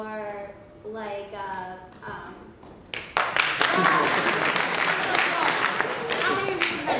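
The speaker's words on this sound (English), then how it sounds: "Round of applause." An audience bursts into applause as a show of hands at a tech meetup, dense clapping filling the room after a few seconds of talk, loud and sustained to the end.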